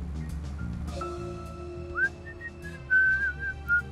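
A character in the video game Deadly Premonition: Director's Cut whistles a short, wavering melody of several sustained notes, clear and close, over a quiet tonal background.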